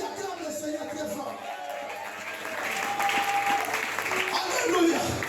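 Church congregation applauding loudly in praise during a French-language sermon, with sustained clapping that swells and grows stronger, mixed with crowd voices and cheering.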